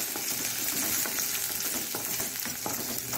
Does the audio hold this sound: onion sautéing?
yes